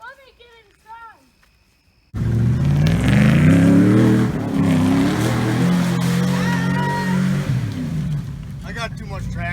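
A Ford fitted with a Chevy engine revs loudly after a brief stretch of talk, its engine roaring up and holding a rough, throaty drone close by for several seconds, with a voice returning near the end.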